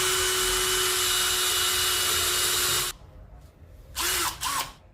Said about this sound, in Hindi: चलिए अब हम ड्रिल करते हैं वॉल के अंदर।